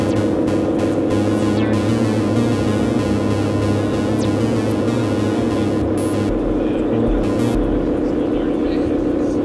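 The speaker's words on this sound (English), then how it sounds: "So you can hear the echo regenerating." A sustained droning tone from an Analogue Solutions Treadstone synthesizer with layered regenerating echoes that keep building and washing over each other, loud and continuous.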